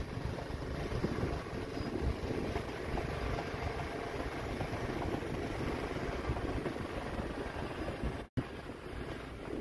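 A Honda snowblower runs steadily on its first pass through snow, a continuous broadband engine and auger roar with heavy rumble that holds nearly constant, with one brief dropout near the end.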